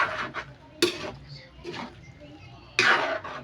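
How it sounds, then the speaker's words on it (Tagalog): A spoon clinks and scrapes against a cooking pot while coconut milk is stirred for a Filipino ginataan dish with chayote, a few sharp metallic taps and scrapes close by amid light background noise. "Kailangan haluin natin para hindi"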